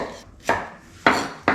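A knife roughly chopping ingredients on a cutting board for a Camarones Enchilados dish, with three sharp, distinct chops spaced unevenly, close and fairly loud, with no talking.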